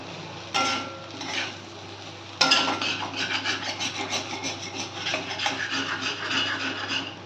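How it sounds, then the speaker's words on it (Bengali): Spatula scraping and stirring amchur powder into a dry-cooked pumpkin and bitter gourd curry in a pan, with a few rasping strokes early on, then steady continuous scraping close by, no talking. "একটুখানি মিক্স করে নেবো আমচুর পাউডারটা"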